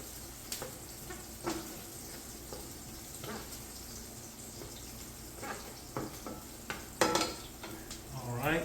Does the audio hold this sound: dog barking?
no